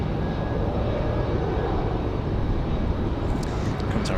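Boeing 757 airliner on its takeoff roll from a runway at Raleigh-Durham airport, a steady loud broadband engine roar holding constant throughout with no speech over it.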